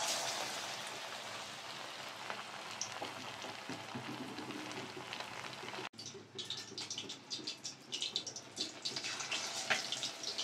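Battered topse fish frying in hot oil, a steady bubbling sizzle that breaks off briefly, then returns with sharper crackles and pops, close and fairly loud with no voices.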